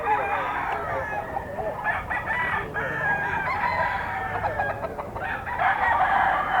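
Stag roosters at a Bocaue market crow and cluck repeatedly, several birds calling close by in overlapping bursts amid general market noise.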